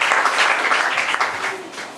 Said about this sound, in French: Acclamez pour Jésus.